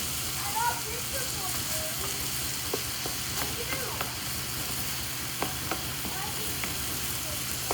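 Ground hamburger, onion and celery frying in a pot as a chili base: a steady, fairly quiet sizzle with occasional sharp spoon clicks and stirring scrapes, plus a faint voice murmuring in the background.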